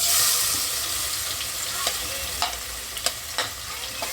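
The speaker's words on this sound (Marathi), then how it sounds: "तेल थोडं गरम होऊ देत आता आणि मी आता कांदा टाकून घेते" Onion sizzles in hot oil in a pan, a bright continuous hiss with a few sharp spatula scrapes and knocks as it is stirred, heard up close with no talk.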